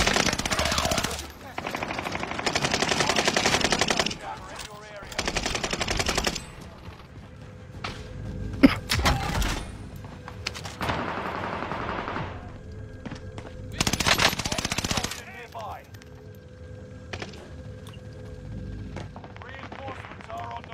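Gunfire in Call of Duty: Warzone, loud sustained machine-gun bursts alternating with shorter volleys and single shots across the stretch, with quieter gaps between engagements and voices talking over the action.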